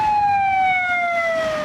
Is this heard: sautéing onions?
no